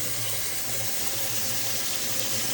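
Steady, loud hiss of water spraying from a kitchen sink sprayer hose at a remodeling construction site, continuous and unbroken throughout with no talk.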